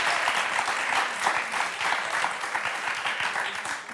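Studio audience at a French TV game show applauding: steady, dense clapping from many hands, moderately loud and continuous for the full span with no voices on top.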